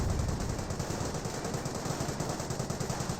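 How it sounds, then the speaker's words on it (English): Rapid sniper gunfire and mortar hits in a Company of Heroes battle, a dense, continuous wash of shots and blasts at steady loudness across the whole stretch. "Wehrmacht Sniper getting some shots and receiving some mortar hits"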